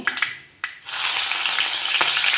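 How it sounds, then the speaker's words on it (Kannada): Green chillies drop into hot oil already holding cumin and mustard seeds, giving a few sharp pops followed by a steady, loud hiss of sizzling that carries on without any talking. "ಇದಕ್ಕೆ ನಾನು ಮೆಣಸಿನ್ಕಾಯಿ ಹಾಕ್ಕೊತಾ ಇದ್ದೀನಿ."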